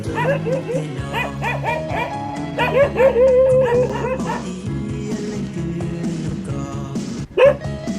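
A dog yips and barks repeatedly amid a busy, cluttered outdoor soundscape with other voices and noises mixed in, fairly close.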